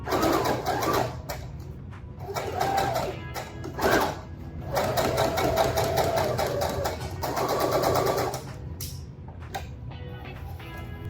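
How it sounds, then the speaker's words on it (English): A sewing machine stitches pinned fabric pieces for pajama shorts, running in steady rapid bursts with short pauses between runs, close and fairly loud with no talking. "we are just going to line it up with the machine and get to sewing"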